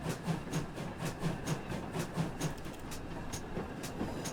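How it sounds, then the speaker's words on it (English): Victory Works Pannier tank model steam locomotive running on a test layout, a steady rolling rumble with faint rhythmic clicking and chuffing, moderately close and continuous, no voices. "So far, it sounds like any other Pannier tank from Victory Works."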